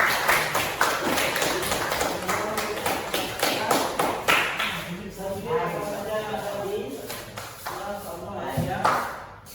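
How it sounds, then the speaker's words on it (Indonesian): Classroom audience applauding for the first group, a sharp burst of many hands clapping that fades into scattered claps, with a teacher's voice speaking over it. "Kita kasih aplaus untuk kelompok 1."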